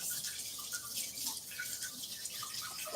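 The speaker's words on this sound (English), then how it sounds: "I'm gonna wash my hands." Water from a running kitchen tap splashes steadily as hands are washed beneath it, a soft continuous hiss with faint irregular patters, fairly quiet and without talk.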